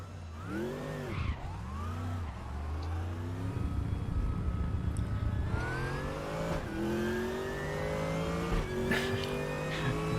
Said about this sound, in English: Beautiful V8 sound coming from this one.